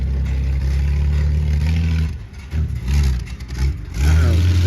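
A four-wheel drive vehicle's engine revs hard and loud outdoors, with a steady roar that dips and surges through a few throttle changes before climbing back to a strong, sustained rev.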